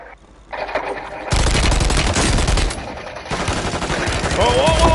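Call of Duty Warzone Resurgence gunfire crackles in loud, dense bursts after a quieter start, with voices talking over the shooting.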